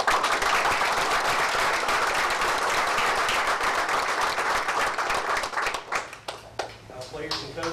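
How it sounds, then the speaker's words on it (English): Sustained round of applause from a town council meeting audience, dense steady clapping for about six seconds that thins out into scattered individual claps near the end. "So I'd like to give a round of applause for the parents tonight for working so hard."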